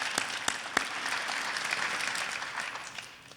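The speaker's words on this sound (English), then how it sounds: "That deserves a round of applause." Audience applause at a city's State of the City address: a dense, steady wash of many hands clapping, holding level for about three seconds and then tapering off.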